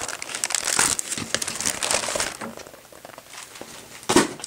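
Scrapbook paper crinkles and rustles as it is handled, with steady crackling through most of the clip and a sharper crinkle near the end.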